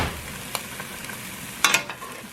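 Onions and peppers sauté in a pan over medium-low heat, a constant close sizzle broken by a couple of brief scraping stir sounds, with no talk.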